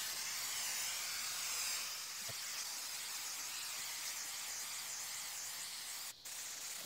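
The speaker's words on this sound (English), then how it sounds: "this is just 3M spray adhesive" A continuous, close hiss of 3M spray adhesive from an aerosol can, steady and broadband, with a brief pause near the end.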